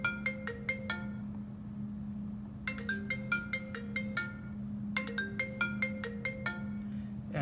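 Two iPhone 6 handsets play their ringtone in turn, one distorted and one loud and deep, as bursts of bright, rising electronic marimba-like tones over a constant low hum.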